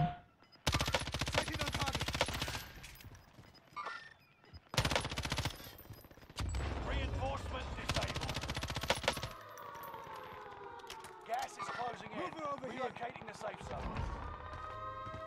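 Loud automatic gunfire in Call of Duty MW2 Warzone, several long broadband bursts separated by short gaps, then quieter scattered shots under game sounds and talk.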